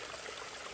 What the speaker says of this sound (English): This is a nice looking little waterfall, just on the side of the cliff here.